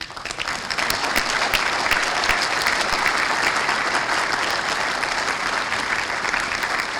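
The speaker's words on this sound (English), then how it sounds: "give you a round of applause" A breakfast celebration crowd applauds the microgrant committee with steady, dense clapping that holds at an even level throughout.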